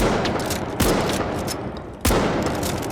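Shotgun blasts in The Finals after the 2.50 patch, two sharp broadband reports about a second apart, loud and close over a continuous bed of game noise and distant gunfire.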